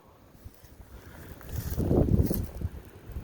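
Wind gusts outdoors in an open field during metal detecting, rising from a light breeze into a loud, rumbling buffet against the microphone before easing slightly.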